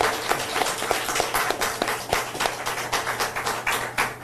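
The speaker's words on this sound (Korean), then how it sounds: "다시 한번 큰 박수 부탁드립니다." Audience clapping at a press conference, a dense, steady patter of many hands that carries on evenly for several seconds without a break.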